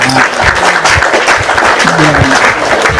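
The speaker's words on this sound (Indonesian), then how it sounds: "Kita kasih tepuk tangan dulu" An audience gives loud, close applause that runs unbroken for the whole stretch, with voices speaking over the clapping.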